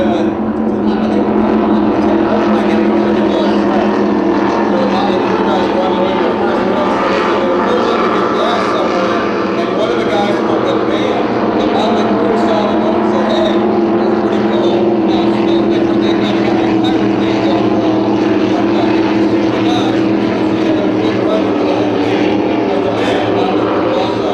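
Fountain racing powerboats at a powerboat race roar steadily and loudly throughout, a continuous droning engine wash with a commentator talking over it.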